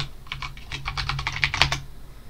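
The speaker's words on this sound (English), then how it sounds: "you will need to type in a password for your user" Password being typed on a computer keyboard in a Linux terminal session, a quick run of about a dozen close, light key clicks with a slightly louder stroke near the end, over a steady low hum.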